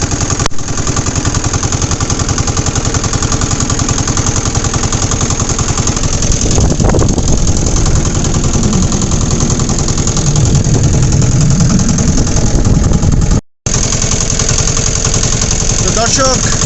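Steady engine drone of a bhasai gari motor boat on the water, loud and continuous throughout, with a brief dropout near the end.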